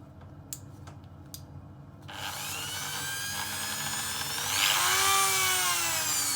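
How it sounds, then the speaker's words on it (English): Small variable-speed Dremel rotary tool fitted with a little wire brush attachment, cleaning brake line and bracketry on a BMW E34 M5. Faint clicks come first, then the tool whines up steadily from about two seconds and rises in pitch and loudness near the end, with no talk. "Just got a Dremel with a little wire brush attachment on it."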